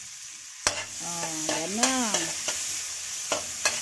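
Garlic and ginger sauté in a hot pan with a soft, constant sizzle, punctuated by several sharp utensil clicks as they are stirred; a person briefly speaks midway.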